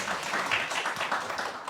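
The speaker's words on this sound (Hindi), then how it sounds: "हमारे पारस भाई के लिए भी तालियां बजाएंगे" An audience applauds for Paras Bhai at a birthday celebration, with steady, dense clapping from a crowd for under two seconds.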